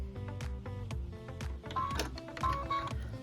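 An embroidery machine stitches a tack-down and cut line on a quilt block piece, giving a steady close mechanical whir with fast repeating needle ticks and a continuous motor hum throughout.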